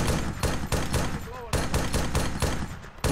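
Gunfire in the military shooter Arma 3 comes as a rapid, regular string of sharp shots, with a brief pause in the middle. The shots sound close and fairly loud.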